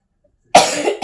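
A woman gives a single sharp cough after a brief silence, close and fairly loud, followed by a short second burst.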